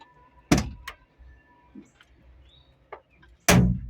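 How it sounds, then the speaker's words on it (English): Cab door of a Cat 309 excavator slamming shut twice from inside, two loud close thuds with a small click between, birds chirping faintly in the background. "First thing, shut your door."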